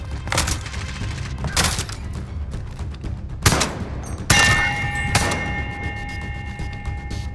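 Several sharp rifle shots from an M82 sniper rifle in a video game crack out one at a time with pauses between them, with a ringing tone after one shot and low rumbling underneath.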